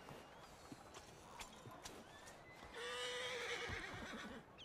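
A horse in the open world of the video game Red Dead Redemption II gives a long, loud whinny with clip-clop hooves and faint ambient noise around it, no talking.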